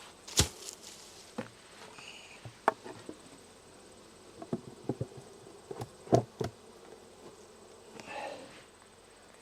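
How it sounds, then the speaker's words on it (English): Honeybees fly in front of a hive, with faint scattered buzzes passing close by over quiet outdoor background and a few soft taps. "Let's put those bees in front of the hive."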